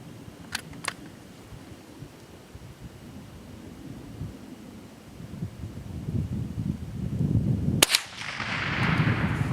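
A Remington Model 514 .22 rifle fires one short, sharp crack over a low rumbling background, preceded by a couple of faint mechanical clicks.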